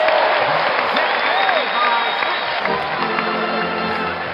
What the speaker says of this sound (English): The baseball applause.